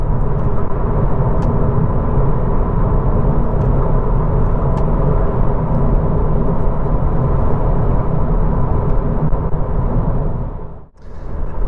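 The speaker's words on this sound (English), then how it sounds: "as we join the motorway by all these massive lorries" A new Audi A3 cruises on the motorway among large lorries, giving a steady loud cabin drone of road and engine noise throughout, with a brief dip near the end.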